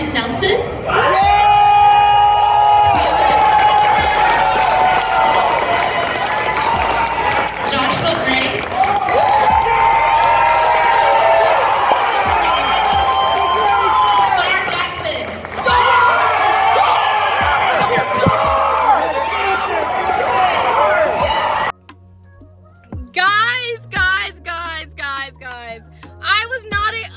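A large audience at a dance performance roars with sustained cheering, whooping and applause, loud and dense for about twenty seconds before cutting to quieter speech.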